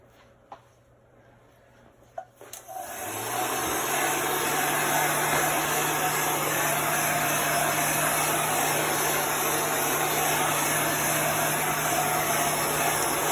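A handheld dryer starts after a couple of faint clicks and blows steadily and loudly to dry a chalk-paste quilted blocks sign, a constant whooshing hum close to the microphone.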